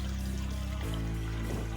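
Water pours into a metal pot, filled about halfway so pesticide can be mixed in for spraying a chilli field. It makes a close, continuous rushing stream whose tone shifts partway through.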